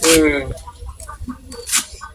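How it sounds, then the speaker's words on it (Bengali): Chickens cluck in short, close bursts, with one loud squawk at the start and a scatter of softer clucks after it, heard alongside a person talking. "মুরগি রে ঘাস খা মুরগি রে"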